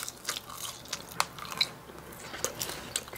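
McDonald's food eaten close to the microphone: crisp bites and wet chewing come in irregular bursts, with sharp crunches standing out against a quiet background and no speech.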